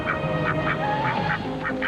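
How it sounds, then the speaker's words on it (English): Ducks quack in a run of short, nasal calls, about eight across two seconds, over a steady background murmur. "They're quacking ducks."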